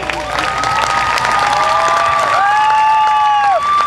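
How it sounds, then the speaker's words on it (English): A crowd applauds and cheers for comedian Bob Smiley, a steady, loud wash of clapping with sustained whistle-like tones rising over it throughout. "Give him a big round of applause."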